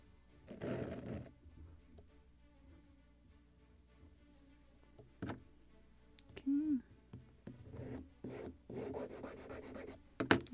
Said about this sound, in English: just on this sanding block